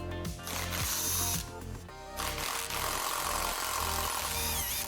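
Rapid ratchet clicks and bursts from a ratchet loosening the axle flange nuts on a 1989 Jeep Grand Wagoneer, coming in several short runs with brief pauses between them, heard up close in a garage.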